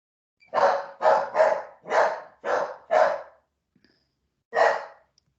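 A dog barks in the background, six rough barks in a quick, uneven run followed by a pause and then one more bark, each fairly loud and close, with no talk over them.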